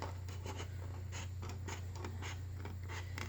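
Scissors snip and scrape close by while cutting around a paper handprint in a mitten shape, a quick irregular series of short crisp cuts and rustles over a low steady hum.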